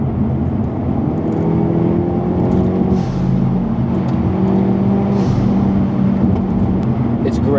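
A Hyundai Elantra N fitted with an aftermarket blow-off valve runs with a loud, rumbling engine, its tone rising and falling through several revs, with sharp bursts between them.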